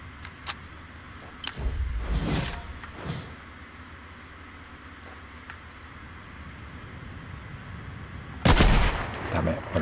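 Gunfire in Fortnite, a handful of sharp, booming shots spread across the stretch: a couple of quick cracks early, a heavier burst near the start and another loud blast near the end, over a steady low game hum.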